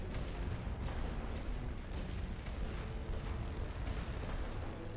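An artillery barrage rumbles on in The Great War: Western Front video game, with a dense, continuous stream of low booms and distant blasts.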